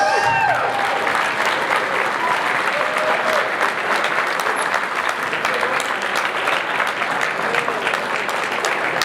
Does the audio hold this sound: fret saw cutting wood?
no